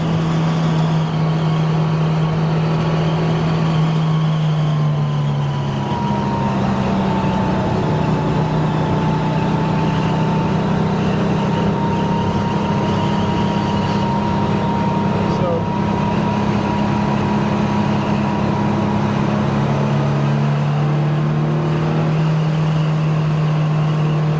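A restored 1969 Porsche 911 E runs in a steady, close engine drone heard from inside while driving, its pitch dipping and rising with gear and speed changes over continuous road noise.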